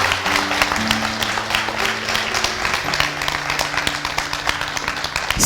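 Audience applause at a business training seminar, steady dense clapping from many hands filling the room, sustained and fairly loud throughout with no voices on top.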